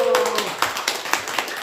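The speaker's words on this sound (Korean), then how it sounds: "박수!" An audience claps in a steady rhythmic beat during a laughter therapy session, about six sharp, evenly spaced claps ringing out close and clear over a faint voice at the start.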